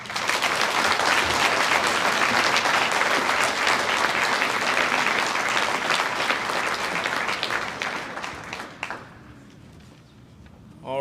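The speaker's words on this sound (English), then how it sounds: "one more round of applause for all of our 2022 ambassadors" A large audience at a student ambassador evening event applauds in a loud, dense burst that lasts about eight seconds and then fades out.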